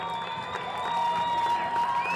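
A basketball crowd rises and cheers on senior night at a girls' high school game, a steady wash of cheering and clapping from the gym stands.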